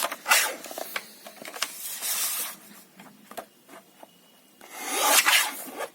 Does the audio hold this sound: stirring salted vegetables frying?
no